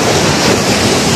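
Strong sea waves crash in a loud, continuous roar of surf, buffeted by heavy wind on the microphone.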